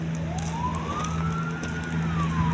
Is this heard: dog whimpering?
no